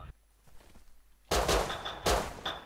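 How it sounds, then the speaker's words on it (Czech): Gunfire in the survival video game Rust: after a quiet stretch with faint movement, two loud bursts of rapid shots ring out close, each followed by a brief high ringing tail. "Někdo střílí. Zvenku."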